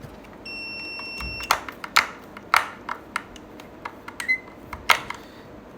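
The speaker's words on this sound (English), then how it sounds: "That's the buzzer sound, so people are alerted." An AX Pro external tri-tech detector sounds its buzzer alert in short repeated beeps, some of them high tones, mixed with clicks and knocks at close range.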